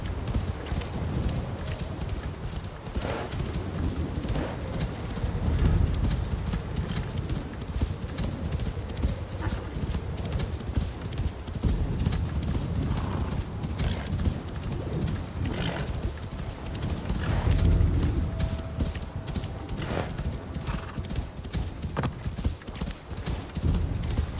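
A horse's hooves clip-clop in a steady trotting rhythm across a bridge in a video game, close and distinct, with an occasional whinny and birds faintly in the background.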